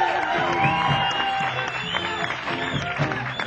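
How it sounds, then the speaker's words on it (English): Crowd applause and cheering at a live blues show in a House of Blues club, a dense steady wash of clapping with whoops over lingering amplified music for a few seconds. "Let's give him a nice round of applause"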